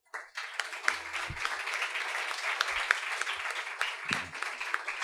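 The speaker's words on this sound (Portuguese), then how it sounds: "uma salva de palmas para o Silvio Próspero" Applause from a small audience welcoming a guest at a Brazilian conversation and music event, sharp individual claps building quickly and staying steady, with a brief voice underneath.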